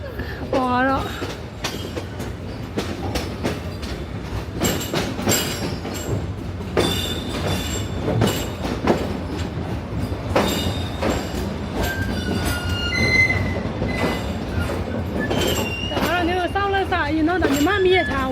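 Yangon to Pyay passenger train moving, a continuous rumbling ride with irregular knocks and clatter of the carriages, a few brief squeals near the end, and people talking throughout.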